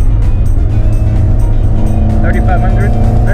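A race car engine idles and runs at light partial throttle with a steady, loud drone throughout, joined late by a brief higher whine.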